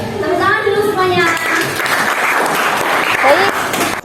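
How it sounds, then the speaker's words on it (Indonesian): Students in a mathematics classroom clap together in a loud burst lasting a few seconds, mixed with voices talking over and after the clapping. "tepuk tangan dulu semuanya"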